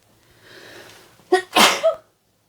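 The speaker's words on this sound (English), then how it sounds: "And I think I'm going to sneeze." A single loud human sneeze, close to the mic, with a soft breathy intake leading into a sharp burst and a short trailing exhale, then quiet.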